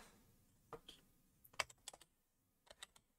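Someone types on a computer keyboard: a handful of quiet, crisp key clicks in short irregular runs with brief pauses, in a silent room.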